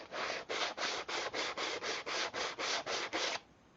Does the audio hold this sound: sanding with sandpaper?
yes